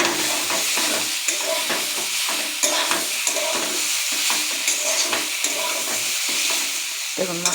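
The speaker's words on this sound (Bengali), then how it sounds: "মশলাটাও সুন্দর ভাজা হয়ে গেল একই তেলে দিয়ে" Spices frying in hot oil in a pan, a dense, loud sizzle with frequent quick stirring scrapes and knocks, close by and without speech.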